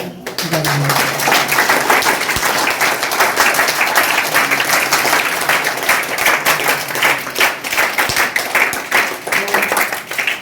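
An audience at a school enrolment festival in a village claps for the principal and teachers, a loud, sustained round of applause from many hands lasting throughout.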